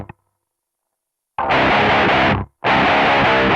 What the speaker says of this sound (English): We'll do high gain with the Rev G3.